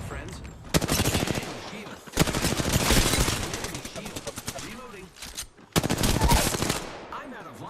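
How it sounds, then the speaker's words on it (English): Rapid automatic gunfire in Apex Legends comes in three loud, close bursts of fast rattling shots separated by short pauses, with a voice speaking in between. "I am taking fire, friends. They spotted me. I'm taking shots. Getting shot at."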